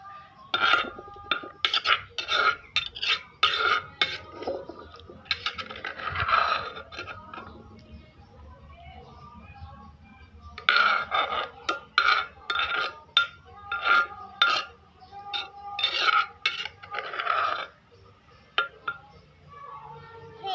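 Papaya salad being scooped from a mortar onto a plate, with repeated clinks and scrapes of a utensil against the dish in bursts, voices talking faintly in the background.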